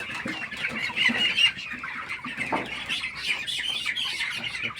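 Chickens cluck and squawk continuously, close by, while they receive eye-drop vaccines in a poultry shed, a busy overlapping chorus of hens with no talk.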